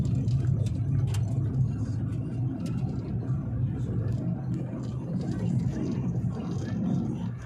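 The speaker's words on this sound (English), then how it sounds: "Oh, traffic's backed up bad at the light today." Backed-up car traffic waiting at a light in Cebu City, a steady rumble of idling engines and passing vehicles with occasional clicks and knocks, continuous and fairly loud, with faint voices underneath.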